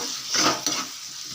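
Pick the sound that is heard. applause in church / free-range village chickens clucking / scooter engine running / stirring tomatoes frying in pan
stirring tomatoes frying in pan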